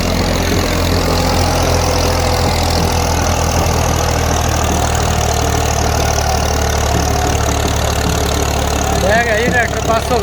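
A Massey Ferguson 240 tractor engine runs with a steady, loud diesel drone and a low rumble throughout, close by and unbroken.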